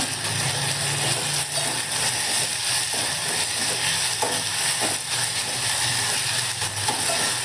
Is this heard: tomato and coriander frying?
yes